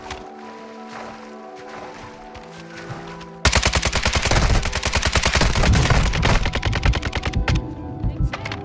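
Rapid automatic gunfire in the video game Warzone during a ranked match, loud sustained bursts that break in suddenly after a quieter stretch and keep rattling to the end, with no voices.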